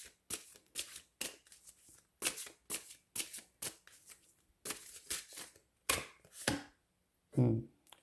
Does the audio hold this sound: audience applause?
no